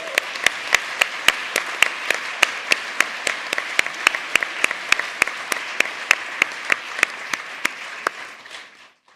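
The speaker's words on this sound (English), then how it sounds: "Let's have another round of applause." Conference audience giving a round of applause, a broad, sustained clapping crowd with one loud rhythmic clapper near the front, fading out at the end.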